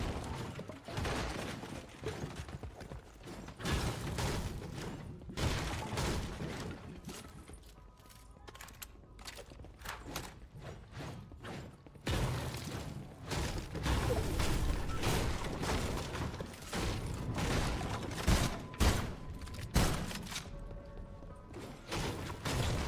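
Bursts of gunfire in Fortnite fired as warning shots, scattered sharp cracks and thuds of varying loudness over steady game sound, with clusters of rapid shots and quieter gaps between them.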